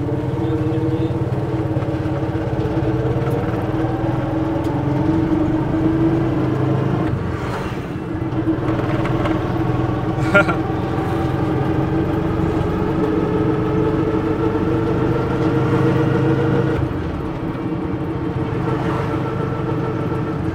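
A 2024 TVS King Duramax Plus auto rickshaw engine drones steadily while driving, a loud, even mid-pitched hum with slight swells that carries on for twenty seconds with no talking.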